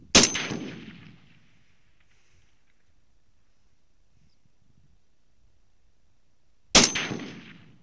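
A 7.62 NATO M80 ball rifle round fired on a range, heard as two sharp, loud gunshots several seconds apart, each with a short decaying echo and near-silence between them.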